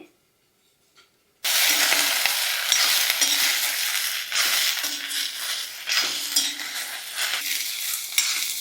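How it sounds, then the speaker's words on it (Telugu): Ivy gourds frying and being stirred in a pan make a steady loud sizzle with scraping stir sounds. The sizzle starts abruptly after a second of silence and carries on unbroken. "దొండకాయలు బాగానే ఫ్రై అయ్యాయండి."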